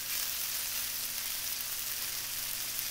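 Onions sizzle in a pan for chili spaghetti, an even, close, continuous frying hiss with no breaks.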